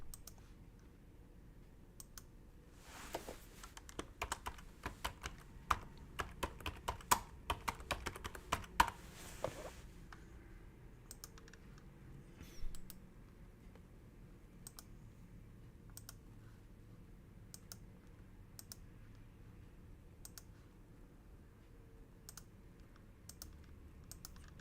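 Typing on a computer keyboard in bursts of quick, close clicks, dense for several seconds and then thinning to sparse single keystrokes over a low background hum.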